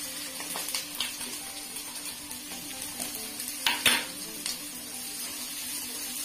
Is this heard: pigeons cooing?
no